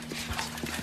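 Soft hoofbeats of a horse being ridden in a circle, a few faint muffled clops in quick succession.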